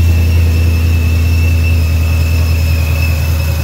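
A supercharged Coyote V8 in an automatic-swapped Shelby GT500, tuned toward roughly 1000 horsepower, runs with a loud, steady engine drone and a high blower whine throughout, close and unbroken.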